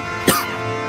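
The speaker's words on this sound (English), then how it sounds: "I got a cough." One sharp, close cough bursts out over a steady background hum from gameplay, brief and loud.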